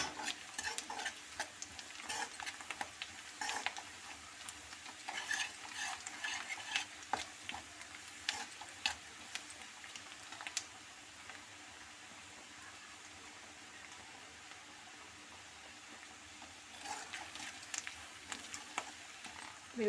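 Fenugreek leaves and onion fry in a pan for boti curry, a soft steady sizzle broken by irregular scraping and stirring clatters, quiet and close, then settling into calmer frying before more stirring.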